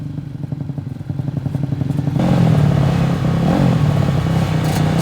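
Racing motorcycles rev together on a starting grid, a rough staccato idle swelling abruptly into a loud, sustained multi-engine roar with wavering throttle blips, close and dense.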